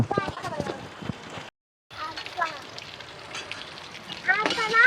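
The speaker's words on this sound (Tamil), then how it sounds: "இஞ்சி பூண்டு பேஸ்ட் போட்டு நல்லா வதக்கினே இருக்கும்" Onions and ginger-garlic paste are sautéed for chicken biryani, with a continuous low sizzle and crackle running underneath people talking close by. Partway through there is a brief silent gap, and the frying grows a little louder toward the end.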